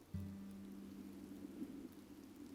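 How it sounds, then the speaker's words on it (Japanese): Soft, steady patter of rain striking an umbrella, a faint continuous wash used as a sound effect at a live concert, with a low hum underneath. "傘に当たる雨の音がする。"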